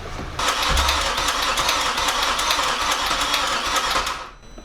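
An Audi RS4 engine cranks and catches, chugging roughly for a few seconds with a low backfire thump near the start, then winds down.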